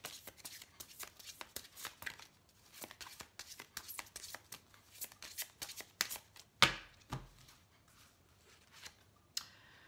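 Tarot cards shuffled by hand for a card reading: a steady run of soft, crisp riffling and flicking, close and fairly quiet, with a couple of sharper snaps near the end and no talk.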